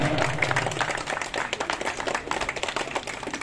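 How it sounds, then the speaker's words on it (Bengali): A crowd at the Chalantika club Durga Puja pandal in Kankurgachi, Kolkata, claps in a dense, steady patter that fills the whole stretch, with a faint voice briefly audible at the start. "একটু জোরে হাততালি হয়ে যাক"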